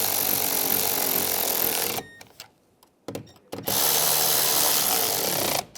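A power tool snugs down exterior mirror fasteners on a 2013-2016 Dodge Dart, whirring loudly for about two seconds, stopping, giving a short burst, then running steadily again for about two seconds before cutting off.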